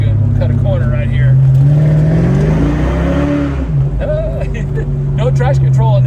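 A 1988 Ford Mustang GT convertible with a 5.0 V8 and five-speed manual revs under throttle, a loud, close engine note rising and falling over a steady low rumble, with someone talking over it.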